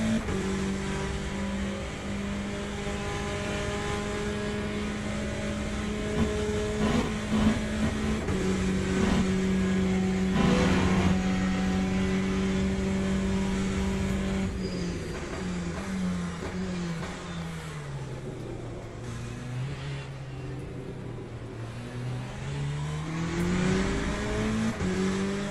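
A race car engine in the Le Mans Ultimate sim howls continuously over a long stretch, pitch climbing and dropping through upshifts and braking downshifts, with a faint tire squeal as it works through corners.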